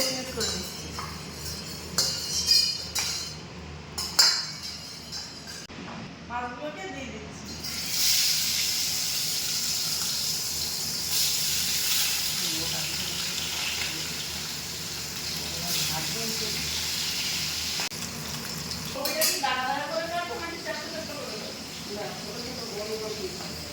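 Fish hits hot oil in a wok and a broad, steady sizzle rises after some clinking of utensils, with a person talking before and after.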